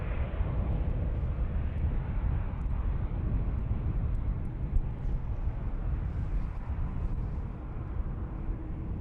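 Airplane taking off from runway 36L at Amsterdam Schiphol Airport, a broad continuous engine roar heard from a distance, steady and fairly loud throughout with no talk.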